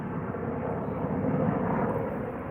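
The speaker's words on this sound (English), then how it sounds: "A Huey." A Huey helicopter flies overhead, giving a steady, broad, rumbling drone that holds even throughout with no voices.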